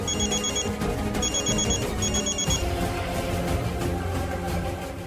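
A telephone rings in repeated bursts of bright electronic trills over a busy background of dramatic music, three ring sequences in quick succession before fading into the score.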